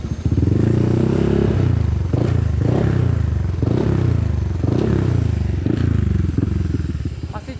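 A Honda ADV 150 scooter with an aftermarket racing exhaust is revved hard several times in a row, each blip rising and falling, loud and close with a rough exhaust rumble.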